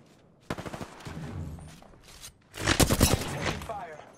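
Bursts of automatic gunfire in the Apex Legends video game, a short rattling volley followed by a louder, denser fusillade, with brief game voice callouts mixed in.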